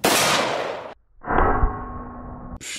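An AR rifle chambered in 5.56 fires green-tip rounds at an oxygen tank outdoors, a loud broadband blast that cuts off abruptly, then a second sharp report with a ringing metallic tail lasting over a second before another burst.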